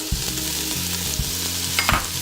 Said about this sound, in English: I will now add our mirepoix, all of our vegetables, the garlic, the onions.